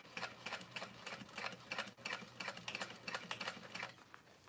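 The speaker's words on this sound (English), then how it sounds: "I'm going real slow, top stitching this black because I have light pink thread" A sewing machine runs slowly, top stitching black fabric with light pink thread, a quiet rapid ticking of needle strokes in an even, continuous rhythm.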